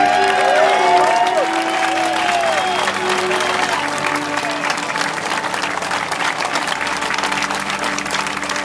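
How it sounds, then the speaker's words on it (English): A crowd at an outdoor privacy rally in San Francisco claps and cheers loudly and steadily, with a few raised voices and a talker partly audible over the sustained applause. "Round of applause there."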